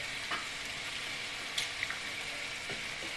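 An egg frying in a stir fry gives a steady, close hiss and sizzle from start to finish, with a few brief scrapes and clicks over the top.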